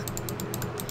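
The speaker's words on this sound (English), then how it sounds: "Can we hear this clicking?" Rapid, even clicking of a computer mouse during play in the Paint the Town Red arena, a steady close run of small sharp taps with no talking.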